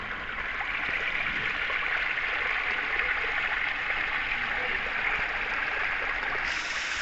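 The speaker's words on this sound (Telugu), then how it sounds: "వాటర్ అయితే ప్రవహిస్తున్నాయి" A mountain stream near a waterfall at Kona Malleswara Kona outside Venkatagiri rushes in a steady broadband wash, continuous and moderately loud, with no break for the whole stretch.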